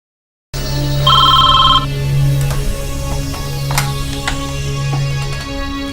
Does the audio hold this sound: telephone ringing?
yes